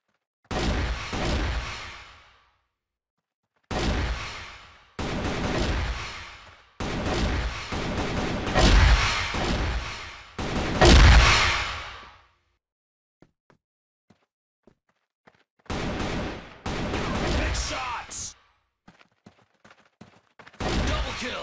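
Gunfire in the shooter game CrossFire (Đột Kích), several loud bursts of automatic fire with short pauses and a longer quiet stretch holding a few faint clicks before the shooting resumes.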